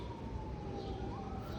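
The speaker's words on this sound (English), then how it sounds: "You hear the sirens." An emergency vehicle siren wails faintly in the distance over a low rumble of traffic and street noise, its tone steady and sliding slightly.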